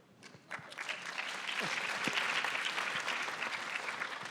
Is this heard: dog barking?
no